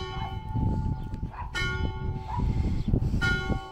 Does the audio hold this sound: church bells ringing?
yes